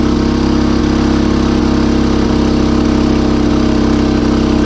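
A Champion C3500iES gas-and-petrol inverter generator runs on gas under a heavy load of about 3.4 kW, a loud, steady, close engine drone with a constant rhythmic hum.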